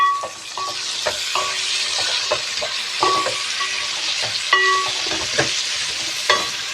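Mint and spices sizzle steadily in a hot pan for a kaju mushroom pulao, with a ladle stirring and scraping in repeated clinks and strokes over the constant frying hiss, close and fairly loud.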